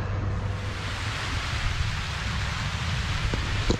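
Steady rain falls outdoors beside the Little Miami River, a dense, even hiss of drops with no breaks and no voices.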